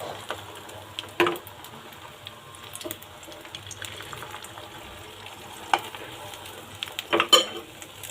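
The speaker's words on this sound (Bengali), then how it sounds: "চুলাতে দিয়ে দিছি পরিমাণ মতো তেল এবার ডিমগুলো" Beaten eggs poured into oil in a pan for a cheese omelette. A quiet, soft sizzle runs throughout, with a few brief spatters and utensil clatters and no talking.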